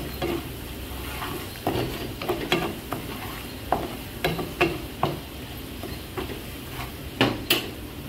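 Milkfish (bangus) being stirred in butter in a frying pan, with scattered scraping and tapping of the utensil against the pan over a faint sizzle.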